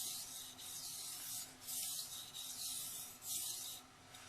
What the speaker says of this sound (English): when you bring the knife down the stone, it follows along its own curvature